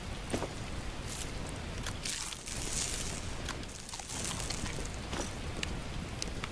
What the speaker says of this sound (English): Hopefully it'll stop raining too.